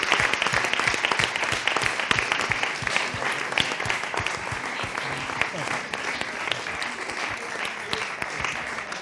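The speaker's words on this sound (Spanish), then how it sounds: "Seguimos con el aplauso para vosotros, claramente." Audience applause closing the VI International Culinary Action entrepreneurs forum, a dense, sustained round of clapping from a sizeable crowd, steady and fairly loud throughout.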